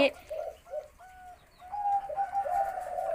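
A spotted dove coos close by in a rhythmic series of soft, hollow notes that build into a longer rolling call, with faint background noise.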